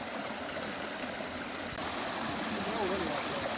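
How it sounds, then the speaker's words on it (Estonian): Spring meltwater in Järveotsa brook running downhill over a small series of cascades near Astangu, Tallinn, a soft continuous rushing and trickling at moderate distance with no voices. "Ja ilusad kevadised veed voolavad"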